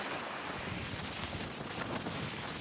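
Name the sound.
wind on a beach in the Outer Hebrides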